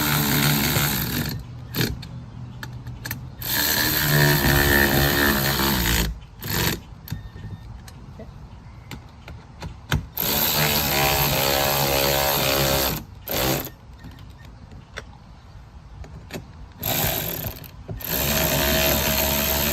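A power tool tightening bolts on a Gorilla heavy-duty 7 cubic foot poly dump cart during assembly, loud, close buzzing whirs in long bursts separated by brief pauses.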